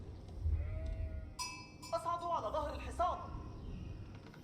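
Sheep bleating in the Age of Empires IV game, a couple of wavering bleats with other game sound effects and tones around them, over low background rumble.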